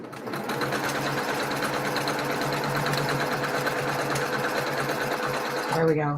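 A sewing machine runs steadily while stitching a quilt block for a fancy sampler pattern, a continuous close motor whir with rapid needle rhythm that stops near the end, with brief talk over it.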